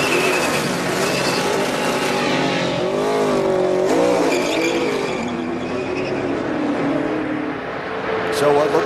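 A race car pulls away from its pit stop at Talladega after fresh right-side tires and fuel, engine revving up in rising sweeps with a tire squeal, loud and close beneath a commentator's talk.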